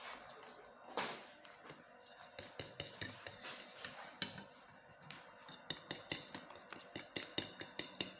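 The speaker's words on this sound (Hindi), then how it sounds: "अब इसको अच्छे से मैश कर लेंगे कड़ी स्पून से।" A ladle spoon mashing a cheese and chili mixture in a bowl, a run of close, sharp metallic taps and scrapes that quicken into a steady rhythmic clatter toward the end.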